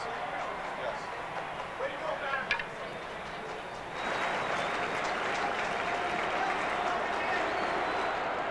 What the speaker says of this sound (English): Mark McGwire, the crowd chanting, "We want Mark."